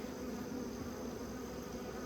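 Honeybees buzzing around an opened hive during removal of infected brood, a continuous dense drone of many wings close by, steady and moderately quiet with no talking.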